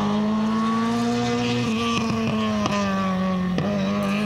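Loud, close Lada Gruppe 2 race car engine holding a steady drone, then lifting off the throttle with a handful of sharp backfire pops and crackles in quick succession.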